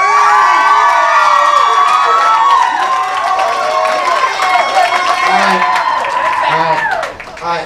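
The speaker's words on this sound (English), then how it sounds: "So clap it up for Nick Poe one more time." A club crowd at a poetry slam claps, whoops and cheers loudly for a poet, a dense roar of shouting voices and applause that holds steady before dipping near the end.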